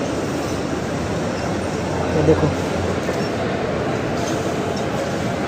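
A metro train rumbles steadily at a station, a continuous loud low drone with a brief voice speaking partway through.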